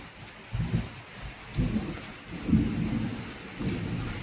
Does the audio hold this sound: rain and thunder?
yes